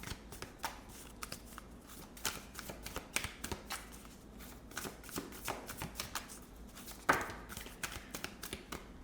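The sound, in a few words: shuffling a deck of tarot cards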